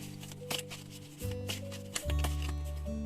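Tarot cards are handled and set down in a few quick shuffling and slapping movements, close and soft, alongside a steady background hum and tones.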